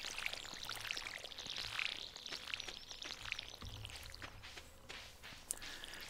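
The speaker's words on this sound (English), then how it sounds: "All right, let's water this place." Crops are watered in the farming video game Stardew Valley with a quiet, repeated splashing pour from the watering can, mixed with light footstep-like taps and soft game ambience.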